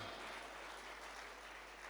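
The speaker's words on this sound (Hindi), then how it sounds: "ताली बनती है इस बात पे।" Audience clapping at a Holi Milan poetry recital in Gwalior, a steady dense wash of applause filling the whole short stretch without any clear voices.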